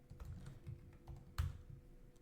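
Fingers tap out quick, irregular keystrokes on a computer keyboard, close and quiet, with one sharper key hit partway through.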